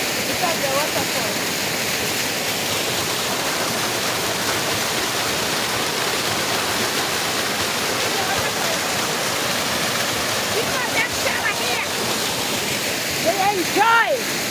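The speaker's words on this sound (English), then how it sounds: "Look at the waterfall. There's another one here." Continuous loud roar of a waterfall, a dense even wash of cascading water, with faint voices breaking through near the end.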